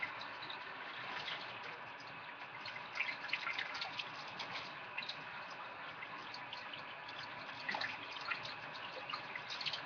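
A blackened roasted red pepper is rinsed under a running kitchen faucet in a sink, a faint, steady stream of water with soft splashing and dripping throughout and no talking.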